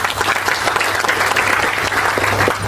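A crowd at a farmers' rights conference breaks into loud, sustained applause, dense clapping filling the space without pause.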